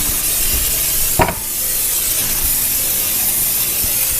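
Canola oil cooking spray hits a pair of 13x9 baking pans in one short, bright hissing burst near the start, then steady low background noise continues.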